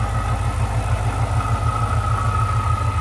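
A supercharged 400-horsepower 2005 Ford Mustang Saleen S281 V8 with headers runs steadily at idle, a close, even low rumble with a faint whine above it and no voices.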